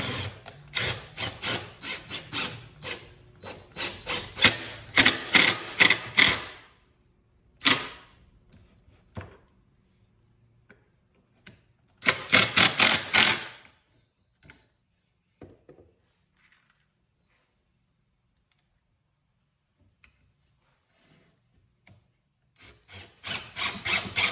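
Drill driving a pocket-hole screw into wood with a Kreg jig, heard as loud close bursts of motor whir with a gritty screw bite, a long first run, a pause, a second short burst and a final start near the end.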